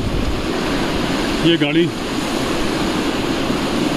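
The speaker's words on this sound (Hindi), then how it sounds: "ये देखिए कितना तेज पानी यहाँ पे आ चुका है जहाँ पे गाड़ी है" Loud, continuous rush of fast-flowing floodwater from a swollen river near a Maruti Celerio car, a broad steady roar with someone briefly speaking over it midway.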